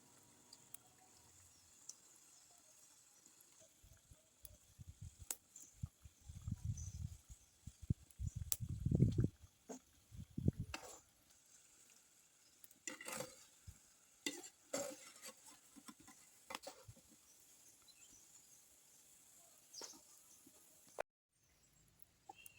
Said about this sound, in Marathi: अशा प्रकारे मी सर्व शंकरपाळ्या तळून दाखवते.